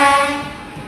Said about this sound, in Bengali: খেতে খেতে আমাদের ট্রেনও প্রায় চলে আসলো